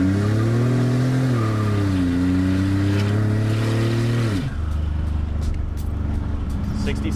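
A 1986 Buick Grand National with its exhaust cutout open accelerates hard, a loud close engine note climbing through the gears with shift dips before settling into a steadier drone.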